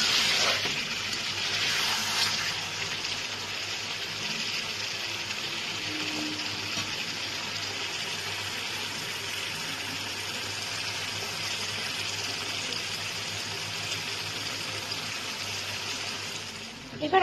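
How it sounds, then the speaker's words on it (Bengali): Hot water being poured into a pot of chicken and potato curry, a steady broad gushing and splashing that runs continuously for the whole stretch at moderate loudness with no talk over it. "এবার আমি এর মধ্যে গরম জলটা দিয়ে দিচ্ছি।"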